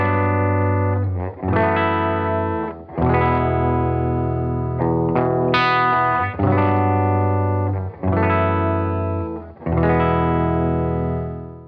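Heritage H535 Standard electric guitar with Duncan pickups, played dry with the Pickup Booster Mini boost pedal bypassed: a string of strummed, sustained chords with brief pauses between them, loud and close, with no talking.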